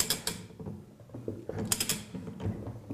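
Wrench tightening the nut on a Flotronic one-nut pump to its required torque, giving close, repeated ratcheting clicks and metallic mechanical clatter in bursts across the clip, with no talking.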